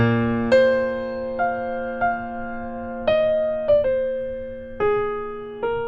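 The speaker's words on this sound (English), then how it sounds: "That is the sound of the bagpipes." Bagpipes play a slow Scottish lullaby over a steady, unbroken drone, each new note sharply articulated with grace-note flicks, loud and close.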